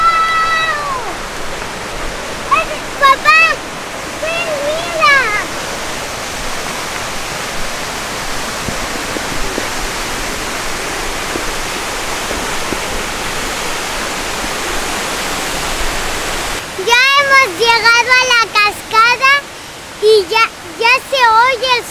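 A 65-metre waterfall at Semuc Champey, Guatemala, roaring as a constant loud wash of water, with children's and adults' voices calling over it at the start and end.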